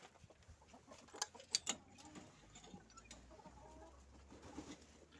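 Young hens and roosters in a backyard poultry flock, faint clucks and a few brief calls over steady outdoor background noise, with a small cluster of sharper calls near the start.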